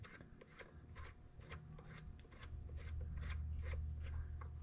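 A ratchet turning a 13 mm socket on a bolt on a Can-Am drive belt clutch, giving a steady run of repeated clicking strokes that grows louder and busier toward the end, with no talking.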